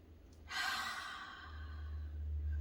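A slow, deep exhale during a children's yoga breathing exercise, soft and close, fading gradually over a low steady background hum.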